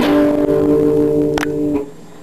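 A few sustained guitar notes ring out, with a quick hammered note change and a brief pick scrape near the end before the sound fades.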